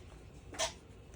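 A single short sneeze from someone at a craft table while tracing with a pencil, a brief burst standing out against quiet room tone.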